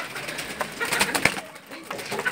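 Rain-soaked pigeons in a rooftop loft coo softly after a rainstorm, with a few low throaty calls and scattered rustling or wing movement, close and fairly loud, with no voices.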